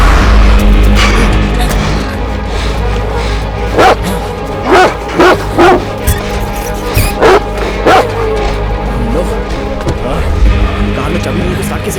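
A dog barks in short repeated bursts, several sharp woofs spaced over a few seconds against steady background noise and film sound.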